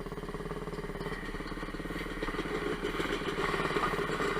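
A Suzuki DR-Z dirt bike rides a rough trail, its engine buzzing steadily and close with a rapid pulsing rhythm that grows slightly louder, along with some mechanical clatter and no talking.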